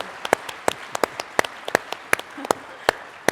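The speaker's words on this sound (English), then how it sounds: "can we give a round of applause to this gentleman?" Scattered, sparse claps from an audience at the Western Conservative Summit 2021, a dozen or so sharp individual hand claps ringing out irregularly over a quiet room.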